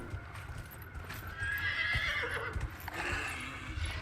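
Horse in Dragon Age Inquisition gallops with steady clip-clop hoofbeats and lets out a loud neigh partway through, game-world ambience underneath.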